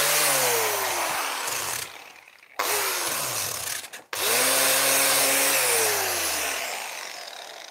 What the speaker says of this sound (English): Where's my sander?